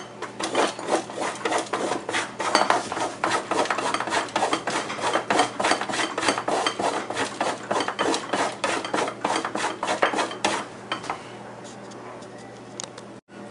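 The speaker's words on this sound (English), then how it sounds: "I'm going to grate the chocolates" Milk chocolate bars are grated by hand in a home kitchen, a steady run of quick, close scraping strokes rasping in a busy rhythm for about eleven seconds before tapering to quiet.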